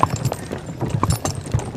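Horse hooves clip-clopping at a steady walking rhythm, close and fairly loud, a quick series of hollow knocks with faint background noise.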